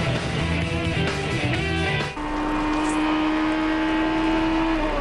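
Onboard a Toyota Atlantics open-wheel race car at the 2005 Montreal round, the engine screams at high revs with gear-change dips, then holds a steady, loud, near drone at sustained speed.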